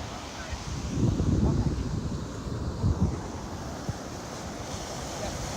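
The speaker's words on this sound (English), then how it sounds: "Some big waves." Big Atlantic Ocean waves breaking on a beach, a steady windy roar of surf with two louder surges of crashing water, heard with wind buffeting the microphone.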